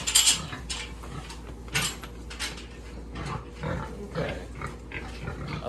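Pigs on a muddy farm being herded through a gate, giving scattered grunts and squeals over a noisy outdoor background, with occasional rattling clanks.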